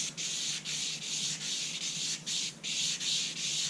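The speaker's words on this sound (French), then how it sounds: "c'est parti pour du ponçage" Steady abrasive sanding of a spinning fishing rod blank, a continuous dry hiss with brief rhythmic dips as the paper shifts, close and fairly loud with no voices.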